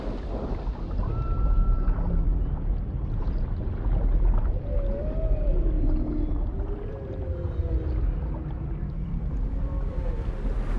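Humpback whale calls rise and fall as long tonal moans and sweeps in open ocean water, a newborn calf near its mother, heard over a steady, rumbling underwater wash throughout.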